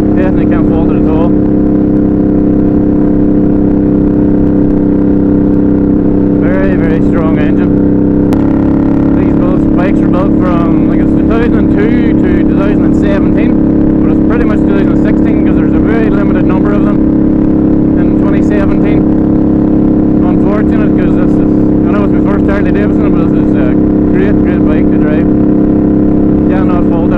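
Harley Davidson Night Rod motorcycle cruising at lower speed, a loud constant low engine rumble throughout with someone talking over it.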